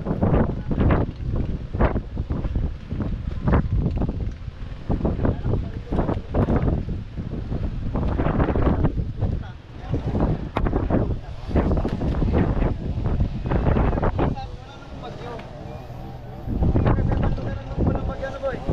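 Strong monsoon wind roars and buffets the microphone in gusts, with people talking loudly over the noise.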